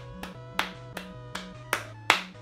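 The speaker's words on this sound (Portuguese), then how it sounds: "palmas crescentes para você." Six sharp claps spaced about every third of a second, fairly close, over a steady low musical tone.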